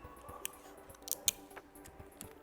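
Small strips of heat tape snipped for wrapping a ceramic sublimation mug, a few crisp, faint scissor-like cuts spread across a quiet room with no talking.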